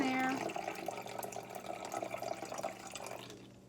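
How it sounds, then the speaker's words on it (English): Vinegar pours onto baking soda in a small container, a brief liquid splash and trickle with faint fizzing that fades out over a few seconds, heard quietly at close range. "I'm going to take my vinegar and I'm going to pour it down in here"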